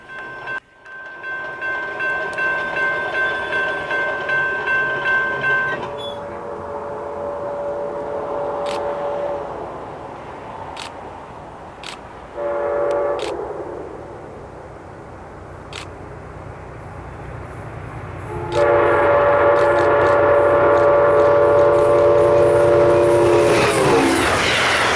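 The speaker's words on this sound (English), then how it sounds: "we'll catch some 80-mile-an-hour Amtrak trains" Amtrak passenger trains race past at around 80 mph on CSX's River Line, horn blasts sounding loudly at the start and again near the end, with rumbling wheels and rail clatter in between and no voices.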